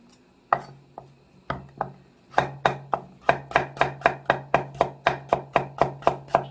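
A knife slices radish on a cutting board: a few sparse cuts at first, then a quickening, steady run of crisp, close, evenly spaced chops.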